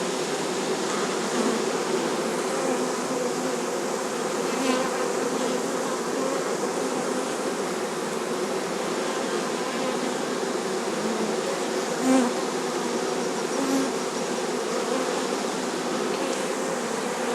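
A honeybee swarm pouring into a hive gives a dense, steady buzzing drone from many bees at once, close and constant throughout, with no voices.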